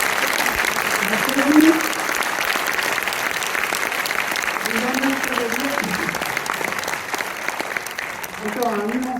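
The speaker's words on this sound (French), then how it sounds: "On les applaudit encore très fort" An audience in a full cinema at a film premiere of «Les Têtes Givrées» claps steadily and loudly throughout, with a voice speaking over the applause.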